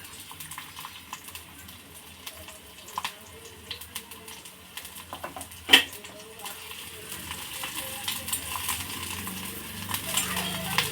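Chopped onion and slit green chillies frying in oil in a pan, a quiet, soft sizzle with occasional stirring clinks and one sharp scrape midway, growing slightly busier toward the end.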